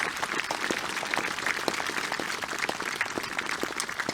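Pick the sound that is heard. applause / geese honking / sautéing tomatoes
applause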